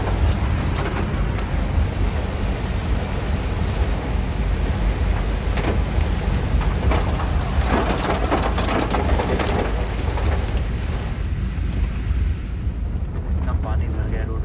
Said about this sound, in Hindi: तो ये आनंद विहार स्टेशन है जहाँ पे हमारी ट्रेन रुकी और बहुत तगड़ी वाली बारिश हुई है।